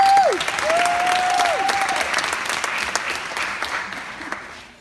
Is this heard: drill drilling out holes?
no